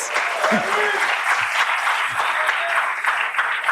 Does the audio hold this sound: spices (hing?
no